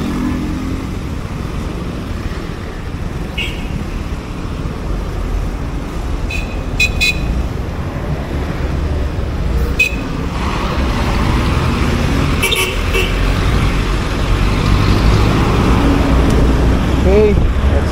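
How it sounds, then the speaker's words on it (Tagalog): Heavy highway traffic roars steadily around a motorcycle rider, with several short car horn toots cutting through and people talking over the din. "Traffic is crazy."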